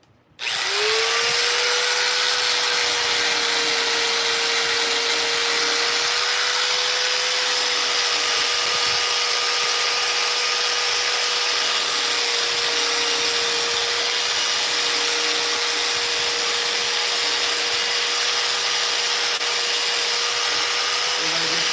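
Chainsaw carving a wooden Steve figure from Minecraft, the saw running loud and continuous at a steady high whine for the whole stretch after a brief start, with no talking over it.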